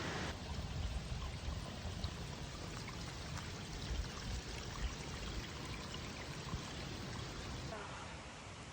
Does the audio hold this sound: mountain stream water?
yes